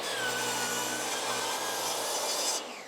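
A saw cutting through a snow pusher plate being split in half for a mini skid steer attachment, steady continuous rasping strokes at close range that stop abruptly near the end.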